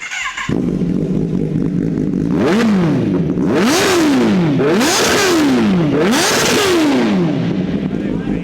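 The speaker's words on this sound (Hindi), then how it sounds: "ओरिजिनल एससी प्रोजेक्ट की आवाज़ सुनो ZX 10R में।" A Kawasaki Ninja ZX-10R superbike with an aftermarket SC-Project exhaust revs hard several times, its loud, throaty exhaust roar sweeping up and down in pitch with each blip.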